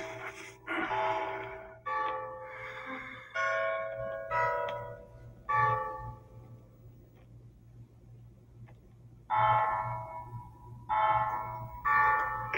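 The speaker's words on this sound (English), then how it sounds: "can you hear the church bells?" Church bells ring out in a series of separate resonant strikes with lingering tones, spaced irregularly with pauses, moderately loud against a low steady hum, in an animated film.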